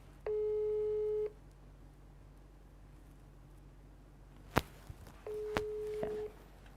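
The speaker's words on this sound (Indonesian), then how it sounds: "Coba saya telepon ulang dulu ya sebentar." Telephone tones while placing a call: two steady beeps about a second long, with a couple of clicks and knocks between them in an otherwise quiet room.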